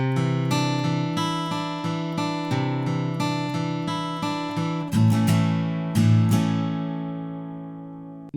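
Acoustic guitar plays the verse variation of a song, with picked and strummed chords in a steady rhythm. It ends on ringing chords that fade out, close and clear, with no talking.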